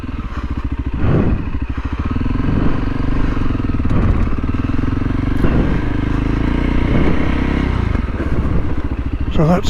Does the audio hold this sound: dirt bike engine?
yes